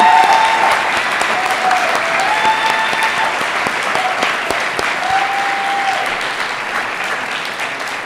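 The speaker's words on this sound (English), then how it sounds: "showing these graduates another great round of applause for their remarkable accomplishments" A commencement crowd applauds graduates, sustained dense clapping from a large audience throughout, slowly easing in loudness, with a few faint tones mixed in.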